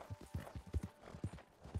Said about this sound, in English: I'm bringing my horse inside the house.